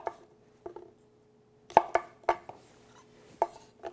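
A nakiri knife slices through an apple on a cutting board, giving about seven crisp, fairly close cuts in an uneven rhythm with short quiet gaps between them.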